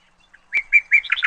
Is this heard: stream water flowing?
no